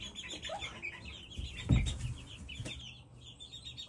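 Farm chickens, a young rooster among them, cluck and murmur softly at close range with scattered chirps, with a brief louder bump in the middle and no talk.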